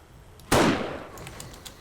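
A sniper rifle fires once in the game 7 Days to Die, Alpha 12, a sudden loud crack with a long rumbling decay, followed by a few faint clicks.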